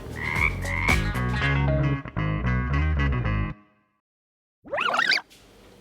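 A cartoonish frog croak sound effect plays after a loud burst of layered, rhythmic tones, then a short silence, then a brief warbling croak.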